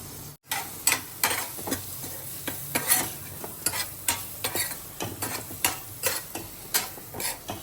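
Paneer roasts in ghee in a pan, a spoon scraping and stirring in quick, regular strokes over a soft background sizzle, close and fairly loud.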